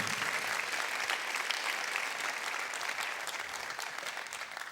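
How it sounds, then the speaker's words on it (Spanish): Church congregation applauding at a distance, a soft, even spatter of clapping that slowly thins out, with no voices over it. "Bueno, dele aplauso al Señor."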